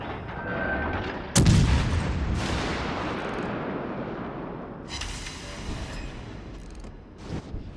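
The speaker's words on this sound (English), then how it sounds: "Shooting, we're going to try and break his turrets now." Heavy battleship main guns fire in World of Warships Legends, one deep booming salvo followed by a long rumbling tail and a few fainter distant blasts later on.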